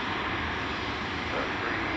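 An airliner's engines roar steadily as it lands on a foggy runway at Chicago O'Hare after a long flight from Turkey, a broad continuous drone heard at a moderate distance.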